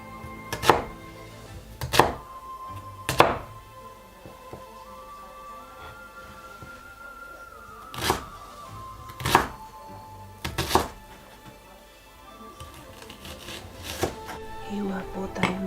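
A knife cutting garlic on a board, with about eight sharp separate chops spaced a few seconds apart and quieter scraping between them, all heard close up.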